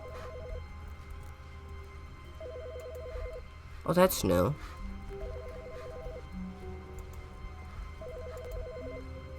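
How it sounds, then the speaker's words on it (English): A telephone rings in The Stanley Parable, its electronic trill repeating in short bursts at regular intervals throughout, fairly quiet, while a voice speaks briefly in the middle. "Hang on, phone's ringing."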